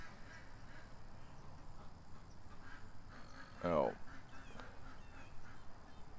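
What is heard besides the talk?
ducks quacking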